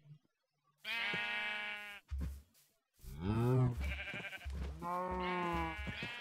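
Sheep in Minecraft bleat repeatedly, several clear, wavering calls close by, one after another with short pauses, over quiet background.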